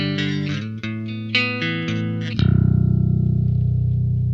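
An Ibanez BTB575 bass guitar played on its bridge pickup gives a few bright, plucked notes, then one sustained note that rings on loudly and steadily for the final two seconds.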